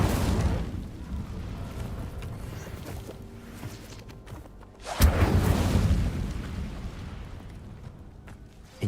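In Hogwarts Legacy, a spell is cast with a sustained roaring, crackling rush that swells sharply into a loud burst partway through and then slowly fades, ending with another short thump. No voices are heard.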